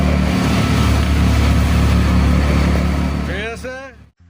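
A CNG auto-rickshaw's engine drones loud and steady from inside the cabin during a ride in heavy rain, the rumble filling the whole clip before cutting off at the end, with someone speaking over it.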